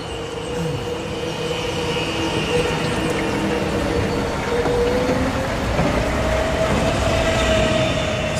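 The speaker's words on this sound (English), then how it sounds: "So here comes the train." A train rolling past in Medellín, Colombia, a sustained loud rumble of wheels on rails with a steady whining tone and faint squeals, heard alone without talk.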